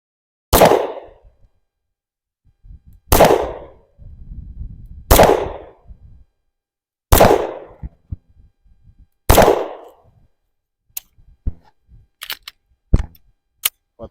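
Five loud, sharp pistol shots from a Smith and Wesson M&P M2.0 10mm at an outdoor range, spaced about two seconds apart, followed by fainter clicks and handling noises.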